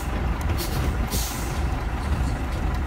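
A truck rolls loudly over a damaged bridge where traffic is limited to one side, a steady heavy rumble with a short hiss like an air brake partway through.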